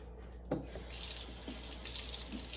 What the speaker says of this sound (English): Rinse my hand off a little bit.